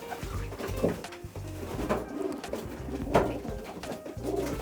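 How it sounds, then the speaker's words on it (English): Pigeons coo repeatedly in soft, low, throaty phrases, close by, with a steady rhythm of rolling calls over a faint background. "Beautiful little pigeon."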